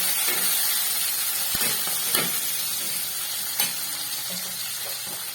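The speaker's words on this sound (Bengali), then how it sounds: "এবার তেলের মধ্যে আমি দিয়ে দেবো আলু আর পেঁয়াজ কলি" Sliced potatoes and onion stalks fry in hot oil in a pan, a steady close sizzling hiss with a few soft pops and clinks of the utensil throughout.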